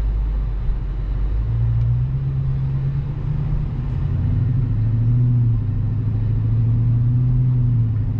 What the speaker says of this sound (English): So like the sound, I love the exhaust.